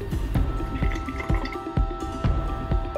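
Apple cider vinegar, lemon juice and pineapple juice poured into a jar for sweet and sour sauce, heard as a steady trickle with repeated dripping splashes, close up and alone.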